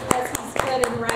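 A church congregation claps its hands together in a brisk, even rhythm during Sunday worship, about five sharp claps in a second, mixed with voices and music.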